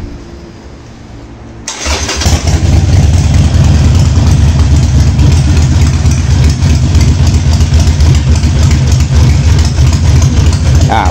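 A Harley-Davidson Sportster 48 motorcycle engine cranks after a brief quiet moment, then settles into a loud, steady, lumpy idle that runs continuously to the end.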